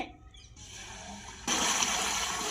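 Water is poured during village-style cooking of a watermelon milkshake, a sudden loud, steady splashing gush that starts partway through after a quieter stretch of faint sloshing.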